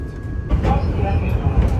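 Low rumbling and rattling from a tram ride in Italy, heard steadily from inside the car with a constant mid-level drone that swells slightly after the first half second.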